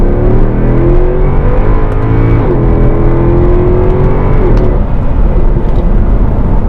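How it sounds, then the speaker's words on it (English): A Mercedes C63 AMG launches hard, its engine roaring loud and close as it climbs through the revs with a quick shift, then keeps pulling with a steady drone. "So let's give you guys a quick little launch here."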